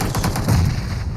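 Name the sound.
gunfire from a squad in a video game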